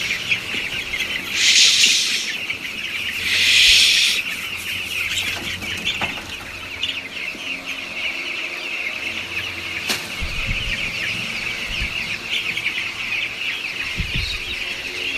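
Chickens cluck and call inside a crowded poultry farm on a hot day. Two louder bursts of squawking stand out early over a constant background hum and scattered soft clucks.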